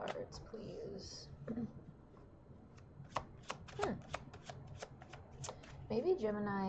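Tarot cards being shuffled up close: soft riffles and a quick series of crisp card snaps, ending in a fluttering riffle, with quiet speech between them.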